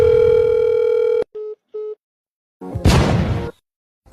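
A telephone tone sounds while placing a call: a steady hum for about a second, then two short beeps, followed by a burst of rustling noise; no talk.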